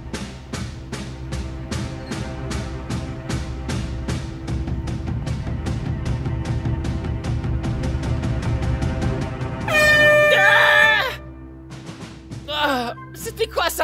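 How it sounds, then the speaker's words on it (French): An air horn is blown to wake sleeping cadets, a single loud, blaring blast of about a second that cuts over a steady rhythmic ticking, followed by brief scattered voices. "Va me chercher le klaxon."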